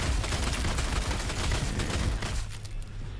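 Rapid volleys of gunfire from a Warhammer 40,000: Sanctus Reach strategy game battle, dense crackling shots packed close together for about two and a half seconds before thinning into a quieter rumble.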